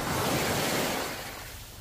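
Surf on Koh Chang Beach, Thailand, makes a broad, even wash of waves that fades slightly toward the end.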